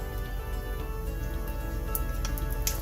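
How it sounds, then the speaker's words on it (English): Tap water runs steadily into a kitchen sink as hands are rinsed, a continuous close splashing hiss with no one talking. "I'm going to rinse my hands first before I touch anything else"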